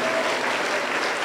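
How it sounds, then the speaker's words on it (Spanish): A church congregation at a Pentecostal service in Junín, Peru, gives a short burst of steady, fairly close applause. "Aplauso para el Señor Jesús."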